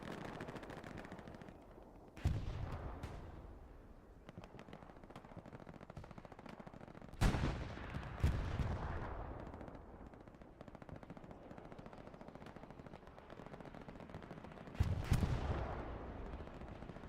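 Distant bursts of aircraft strafing gunfire in the WWII shooter Hell Let Loose, rapid rattling volleys with heavy booming impacts at three points, rumbling between them at low level.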